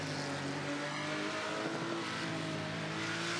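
A Porsche flat-six race car engine in a digital Nürburgring endurance racing game drones at high revs, a steady strained howl with layered harmonic tones held throughout and no voices.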